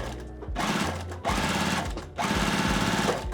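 A sewing machine stitches a quilt block in three steady, loud bursts of whirring motor and rapid needle clatter, separated by brief pauses, with no voices.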